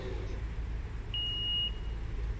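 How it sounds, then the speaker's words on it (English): A single steady electronic beep from a Haulotte 45XA man lift rings out for about half a second over a quiet low hum. "And there's our long beep."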